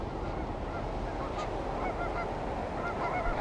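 Geese honking by a river, repeated calls at a middle distance over a steady rushing-water background, with no voices.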